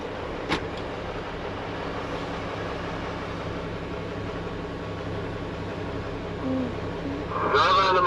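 A farm vehicle drives into an east bay of a farm shed with a steady, even engine drone throughout, a brief knock near the start and a rattling clatter rising at the end.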